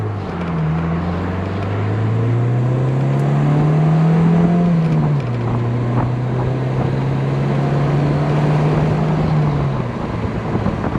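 A 1990 Saab 900 Turbo Convertible drives at speed, its engine drone loud and steady, rising in pitch, dropping briefly as it shifts, then climbing again under wind and road noise.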